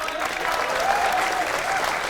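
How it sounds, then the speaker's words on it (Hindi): Studio audience applause welcoming guests onto a Hindi political debate show stage, steady and dense clapping throughout, fairly loud with no speech over it. "तालियों के बीच स्वागत है आपका लपेटे में नेताजी में।"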